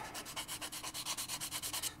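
Rhythmic sanding on a small plastic piece of an AMT Klingon Bird of Prey model kit, quick regular back-and-forth strokes, close and fairly quiet, with no voices.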